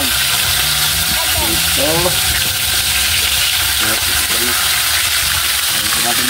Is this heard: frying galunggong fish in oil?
yes